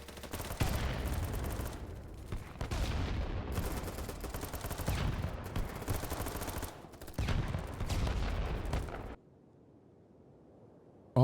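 Submachine gun fire in the video game BattleBit Remastered, long loud rapid bursts with brief gaps between them, then a sudden cut to near silence at the end.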